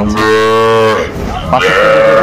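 A young Sahiwal Gir bull calf at a Noakhali cattle market gives two loud, close, drawn-out moos in quick succession, with no voices over them.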